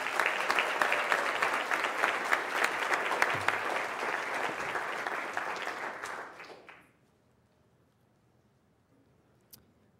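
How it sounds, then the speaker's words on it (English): Audience applause at a state Teacher of the Year awards ceremony: dense, steady clapping from a large crowd for about seven seconds, then it dies away fast into near silence with one faint late click. "Let's give Ashley another round of applause"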